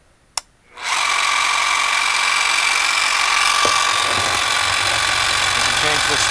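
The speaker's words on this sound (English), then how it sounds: "This is a heavy duty hammer drill." A Bosch 11263EVS rotary hammer drill switches on after a short click, soft-starting up to a loud, steady high-pitched whine that holds for several seconds, with faint rattling beneath.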